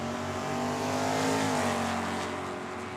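A Chevy Nova and a Ford Mustang launch down a drag strip at Tucson Dragway, a loud sustained engine roar that swells and rises in pitch, then eases slightly as the cars pull away.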